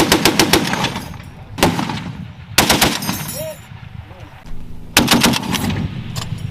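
A .50 caliber machine gun fires several short, rapid bursts on a range during an exercise, each a loud hammering string of shots, while radio chatter and voices are heard between bursts.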